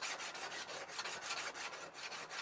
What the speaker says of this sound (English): I'll draw file that. I'm gonna make sure that there's no burrs.